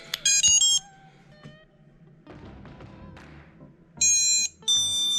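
A drone's electronic beeper chirps in loud bursts of high-pitched tones after its battery pack is plugged in and armed, with a short beeping series at the start and two more bursts near the end, separated by quieter handling noise.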